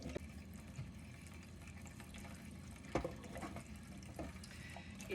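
Tap water runs into a kitchen sink over a batch of chicken eggs being rinsed, a soft continuous splashing stream with a few louder spatters, close but faint.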